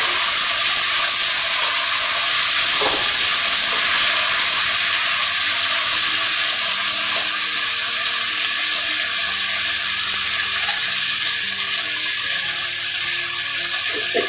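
Fish frying in oil in a Manipuri-style home kitchen, a steady loud sizzle and crackle that runs unbroken throughout with no talking.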